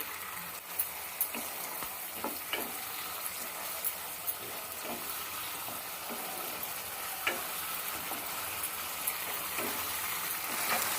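Cumin-chili paste with tomato sautés in a pan, a steady broad sizzle with scattered scraping ticks of a spatula throughout, close and continuous, no voices.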